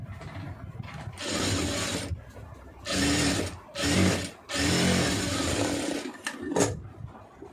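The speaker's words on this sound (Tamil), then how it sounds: "இதில் ஒரே தையல் போட்டுக்கிங்கன்னா போதும்" Domestic sewing machine stitching a neckline collar piece, running in several short bursts of fast, even whirring stitches separated by brief pauses, close and alone without speech.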